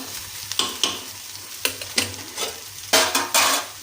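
A spoon stirs sugar into basmati rice payasam thickened with milk in a pot, giving a run of short, close scraping strokes against the metal with brief pauses between them and no voices.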